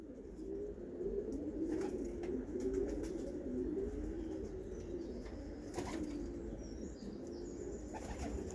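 Steady, soft cooing of Belgian Meulemans-strain pigeons continues throughout, with occasional faint chirps and wing flutters over a low background hum.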